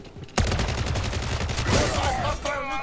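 Video game gunfire on Rebirth Island bursts out suddenly as a dense, rapid volley of shots that keeps crackling, with voices talking over the end.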